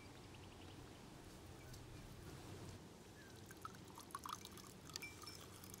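Water pours steadily from the outlet of a no-install caravan and camping water filtration system, a continuous splashing stream with a few brighter drips and trickles toward the end, fairly faint and without talk.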